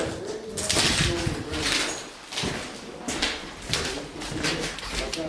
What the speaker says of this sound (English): It's just a bird, Jesse!